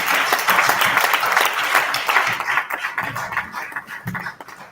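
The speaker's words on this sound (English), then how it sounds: "A round of applause for the person who introduced me." Applause from a convention audience in Makeni, Sierra Leone, steady clapping that gradually thins out and fades toward the end.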